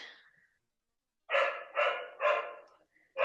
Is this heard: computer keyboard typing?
no